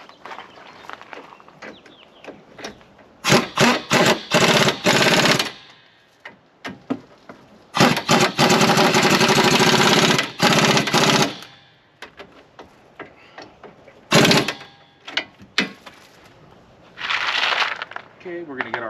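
An impact wrench zaps a brake caliper bracket onto a car hub during a wheel-stud repair, several loud bursts of whirring and hammering separated by pauses, with one long sustained run in the middle.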